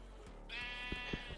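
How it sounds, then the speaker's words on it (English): Sheep bleating in the video game Minecraft: one drawn-out, wavering bleat lasting about a second, heard alone over quiet game ambience with a few soft thuds. "Let's move the sheep over a little bit."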